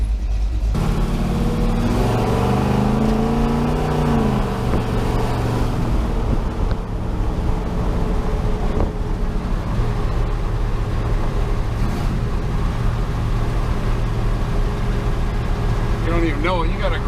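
Car engine running steadily with a newly installed carburetor, loud and close, with a brief rev near the start, as people talk over it.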